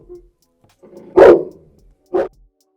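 A dog gives two loud, sharp barks close by, the first stronger and the second shorter about a second later, with quiet pauses around them.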